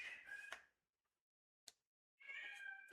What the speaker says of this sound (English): The cat is feeling lonely.